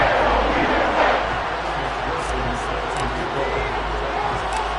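Steady, dense crowd roar fills a football stadium during a playoff game in Madden 23, sustained loud cheering throughout with no break.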